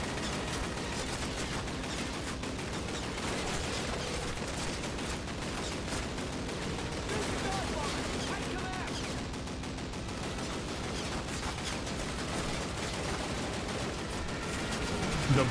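Continuous dense gunfire from Call of Duty (2003), with rapid projectile weapon shots running unbroken and loud throughout the stretch and no voices.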